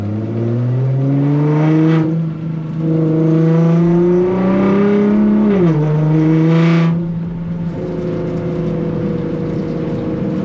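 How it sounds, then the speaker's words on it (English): Nissan GT-R engine accelerating hard through paddle-shifted upshifts, loud and steady from inside the cabin, the engine note climbing and dropping with each gear change around two, four and six seconds before settling into a steady drone. "Paddle shifters are nice. Transmission's pretty good, actually. Some nice upshifts there."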